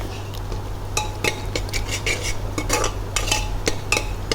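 Beetroot being sautéed in a pan, with a utensil scraping and clinking against the metal in irregular close strokes over a low steady hum.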